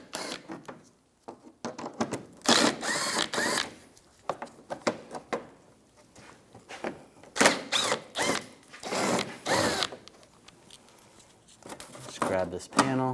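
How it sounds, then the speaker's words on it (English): A 10mm socket on a ratchet backs screws out of the side engine splash shield on a 2004-2009 Toyota Prius, giving bursts of rapid clicking and scraping in irregular clusters, close up, with intermittent talk. "Using a 10mm socket, we're going to take these screws out."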